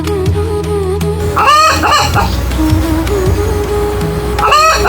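Cartoon farmyard chickens cluck and crow in loud bursts, with repeated squawking calls over a busy background of lively music and motion.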